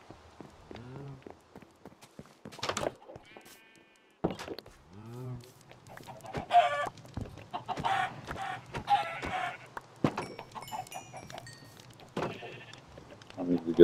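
Sheep and chickens on a small farm in a video game: several bleats early on, then clucking and scattered clicks, with rustling game noise throughout, moderately close and fairly quiet.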